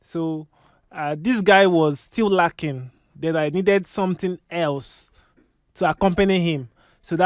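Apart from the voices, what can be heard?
No distinct noise like a dog, phone or traffic.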